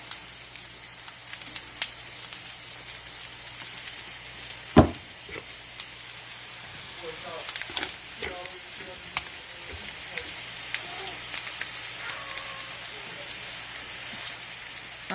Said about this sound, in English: I'm going to put those into the butter